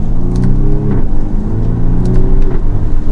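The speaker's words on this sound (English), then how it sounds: "you hear a little bit of that exhaust gurgle, but you almost heard like a little turbo noise, like a wastegate or blow-off valve noise" A 2022 BMW M235i Gran Coupe xDrive with a turbocharged engine accelerates hard, loud and close, its engine note climbing through gear changes with brief exhaust gurgles between shifts.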